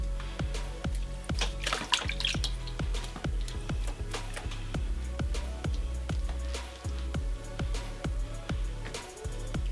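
Running water for wetting hands and a ball of pottery clay sounds as a close, steady trickle and splash. Soft, regular ticking taps run through it, and no one speaks.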